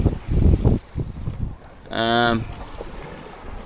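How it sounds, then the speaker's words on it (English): Sailboat underway at night with one reef in the main and a reefed jib in about 13 knots of wind, steady wind and water rush around the hull, with someone speaking briefly over it. "Alrighty, sailing into the night. I've got a just one reef in the main. It's like 13 knots of wind, and reef jib."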